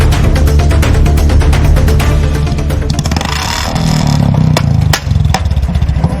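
A Bullet motorcycle fitted with a loud aftermarket silencer blares close by near a cinema complex, a harsh rapid thumping exhaust that revs up and down with a sharp drop near the end, no talking.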